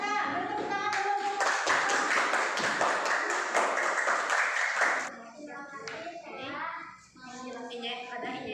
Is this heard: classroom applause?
yes